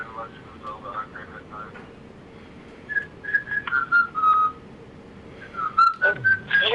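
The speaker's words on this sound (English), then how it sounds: "Your whistling is so shrill." Shrill, thin whistling heard over a telephone line at a birthday golf outing, several wavering sustained tones broken up with pauses, with people talking between them.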